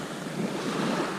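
Sea waves wash steadily up a shingle-and-sand beach at Eastbourne at night on a big incoming tide, a continuous broadband surf roar mixed with wind noise on the microphone, with no talking.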